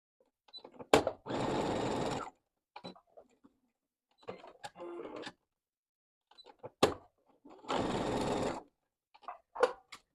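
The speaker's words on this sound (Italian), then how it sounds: "E adesso me li vado a bloccare con un punto dritto a bordo piedino, uno di qua e uno di qua, una cucitura di qua e un'altra di qua." Sewing machine stitching fabric pieces for a fabric gnome, with two sustained bursts of fast mechanical whirring separated by quiet handling clicks and small taps, close up with no talking.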